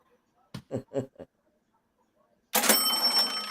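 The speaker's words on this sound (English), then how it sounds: "That's going to be a delayed cha-ching in about 14 seconds." A cash register cha-ching sound effect bursts in loud and bright near the end, ringing with a metallic shimmer, after a few short knocking taps and a stretch of silence.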